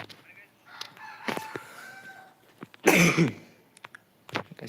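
One harsh, close cough bursts out midway, with quiet murmuring and small clicks around it.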